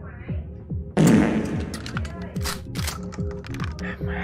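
A single heavy shotgun blast booms out in the horror game Buckshot Roulette, a sudden loud burst over a steady, rhythmic thumping game soundtrack that carries on afterward with scattered clicks.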